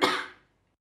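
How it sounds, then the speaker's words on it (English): A single short cough, close and clear, fading quickly into silence. "Please, could you cough?"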